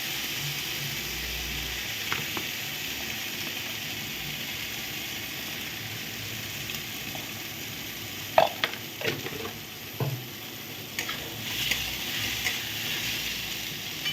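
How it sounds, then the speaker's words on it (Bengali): Rice fried with turmeric in a pan gives a steady, close sizzle, broken by a few sharp scrapes and clicks of stirring. No one talks. "একটু চালটা ভাজা ভাজা হয়ে গেলে এখনই সব মশলা আমি দিয়ে দেবো"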